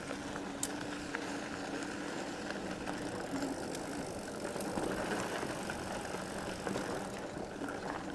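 A Velotric Summit 1 e-bike rolls over a rough trail, giving steady rattling and crunching tire noise with occasional sharp clicks, moderately loud and continuous, with no talking.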